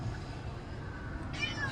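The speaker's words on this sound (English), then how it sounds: "that's the cat again" A cat named Jeffrey meows from inside a car during a road trip while a trailer is towed behind, one drawn-out, fairly quiet meow rising over a constant low engine and road rumble.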